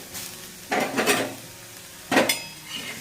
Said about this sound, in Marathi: सोयाबीनला असं सारखं हलवत राहायचं नाहीतर जळतात